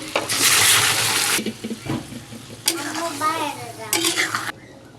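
Red lentils being stirred into fried onions in a pan, with loud scraping and clattering of a spoon against metal over a soft sizzle, and a brief voice partway through.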